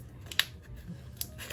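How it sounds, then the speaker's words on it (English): Scissors snip washi tape still attached to its sheet, two or three quick, crisp cuts close to the microphone against a quiet room. "whoever suggested to cut them while still on the sheet"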